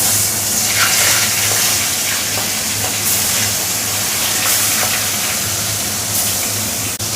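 Koi fish drop into hot mustard oil in a heated kadai, producing a loud, dense, continuous frying hiss that stays steady throughout without pauses or voices.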